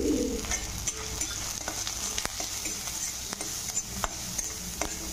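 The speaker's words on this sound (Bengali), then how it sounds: "পেঁয়াজটাকে হালকা ভাজা করে নেবো, বেশি লাল করবো না" Onions frying in a little oil with salt and turmeric, a steady close sizzle broken by sharp clicks of stirring and a spatula scraping the pan, with faint bird coos far in the background.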